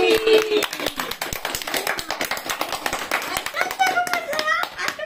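Hands clap in a quick, uneven rhythm at a small home birthday celebration for a Janmashtami Gopal idol, with voices singing and talking over the clapping.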